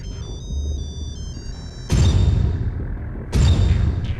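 A phone ringtone plays a repeating high electronic melody, followed by two loud dramatic hits with lingering tails, all fairly loud with no talking.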